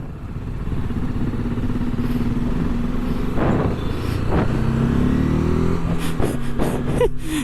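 An RTR 310 motorcycle engine idles with a steady low rumble, rising briefly in a couple of revs, with faint clatter around it.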